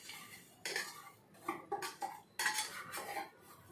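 Grated coconut and jaggery go into a cooking pot with a few close, faint metallic scrapes and clinks of a spoon against the vessel, spaced irregularly in a quiet kitchen.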